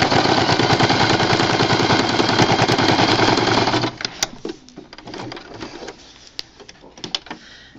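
A sewing machine top-stitches fabric for a homemade checkerboard game board, running loudly in a fast, steady rattling burst for about four seconds, then stopping and leaving sparse light clicks and handling noise.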